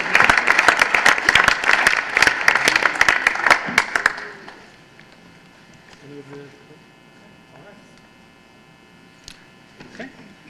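Applause at a board of education meeting, a loud burst of clapping for about four seconds that stops abruptly and leaves a low room hum with faint scattered noises.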